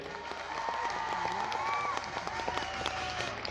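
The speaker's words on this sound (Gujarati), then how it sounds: "બધા માટે એકવાર જોરદાર તાળીઓ થઈ જાય" A crowd applauds at an outdoor Adivasi tribal cultural programme, a dense steady patter of clapping that fills the space while a voice carries through faintly over the top.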